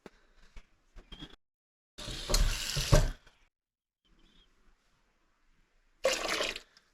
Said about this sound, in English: I'm gonna add a little water to finish it.